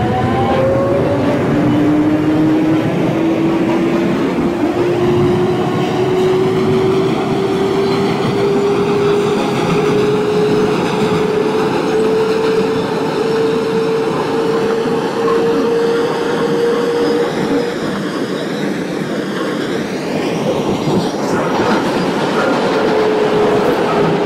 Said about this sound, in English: This is a Manhattan-bound J local train.